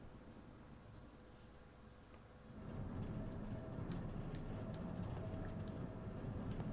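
A train in the opening of Resident Evil Zero on GameCube, a low steady rumble that swells louder partway through and keeps rolling with faint rattling clicks.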